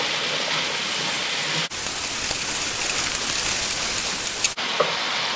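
Apples being stirred in a pan over low heat with muscovado sugar and cinnamon, a steady close hiss and rustle that runs the whole time with two brief gaps.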